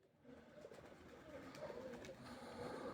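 Soft, low pigeon coos repeat in the background over a rustling, noisy outdoor ambience, faint and somewhat distant.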